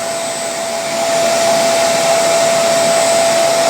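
A Shark Carpet Xpert Hair Pro StainStriker EX30 carpet cleaner's motor runs in a steady, loud whine with a constant high tone, rising slightly in strength after the first second and holding there alone.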